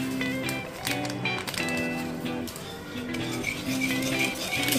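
A spoon scraping and clinking against a pan while white sauce pasta with oregano is stirred, light irregular metallic taps and scrapes over a faint background hum.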